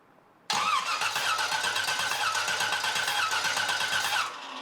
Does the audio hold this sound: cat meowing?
no